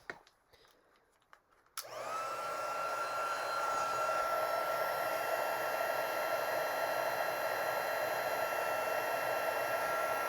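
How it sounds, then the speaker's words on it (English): A heat gun switches on after a quiet start and blows steadily, melting embossing powder on a craft project; the fan's broadband whoosh and motor whine hold loud and even to the end. "I'm going to go ahead and I'm going to heat emboss this."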